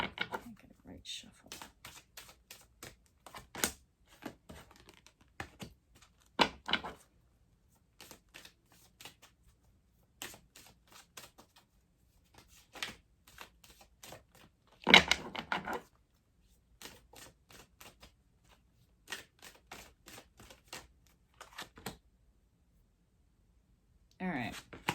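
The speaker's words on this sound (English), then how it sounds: "Get a right shuffle." Tarot cards are shuffled in repeated quick riffling bursts with short pauses between them, crisp and close in an otherwise quiet room.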